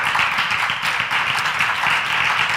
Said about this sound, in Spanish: Venga, denle un aplauso al Señor y ya mismo comenzamos.